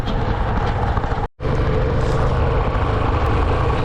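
A vehicle engine runs steadily and loud at close range, a continuous broadband rumble with one brief dropout partway through, and no voices.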